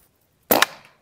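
A Rossi Outlander shotgun fires a single slug: one abrupt, loud close-range blast with a short decaying tail and nothing else around it.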